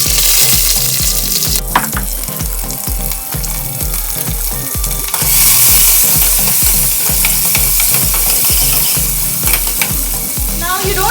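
Diced onions frying in a pan for drumstick sambhar, a loud steady sizzle with rhythmic stirring scrapes throughout, close up and without talk.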